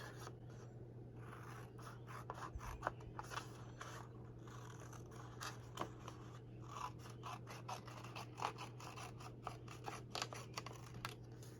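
Scissors snipping through a paper tag at a craft table, repeated close crisp cuts in an uneven rhythm over a low steady hum, quiet and without speech.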